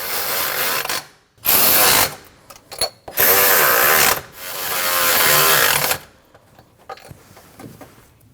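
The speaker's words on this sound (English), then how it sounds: "Now you can tighten down all 4 of your bolts." Ratchet wrench tightening the four cooling fan blade bolts on a 2012-2021 Nissan NV2500 5.6L V8, several loud close bursts of rapid clicking with brief pauses between them.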